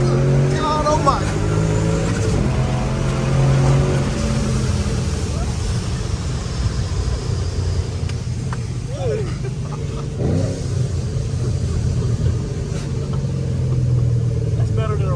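A supercharged Ford Mustang pulls hard in second gear, its engine roaring loud and close with a rising, sustained drone while voices call out over the noise.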